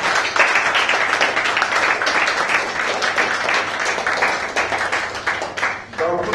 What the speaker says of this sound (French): je vous prie d'applaudir en guise d'accueil